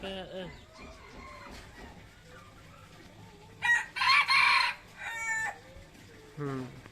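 A rooster crows loudly in a few bursts over a background of faint chatter and clucking fowl nearby.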